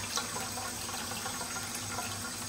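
Water running steadily from a sink tap into a saucepan, a continuous close splashing stream with a low hum beneath.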